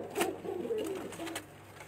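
Domestic pigeons coo in a breeding loft: a few soft, throaty coos close by and fairly faint, over a low steady hum, with no talk.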